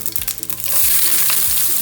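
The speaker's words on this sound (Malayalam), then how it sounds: "എണ്ണ നന്നായിട്ട് ചൂടായിട്ടുണ്ട്. നമുക്ക് കടുകിടാം." Loud, steady sizzling of mustard seeds in hot oil, with scattered crackles and pops building into a continuous hiss.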